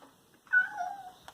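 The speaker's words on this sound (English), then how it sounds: "You strange cat." A cat lets out a single clear, rising-then-falling meow close by, nearly a second long, followed by a faint click in an otherwise quiet room.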